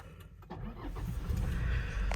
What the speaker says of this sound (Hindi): तो कार को स्टार्ट कर लेते हैं